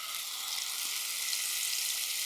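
Ground cooked jackfruit frying in ghee with roasted cashews gives a steady, even sizzle that stays constant and close throughout, with no voices.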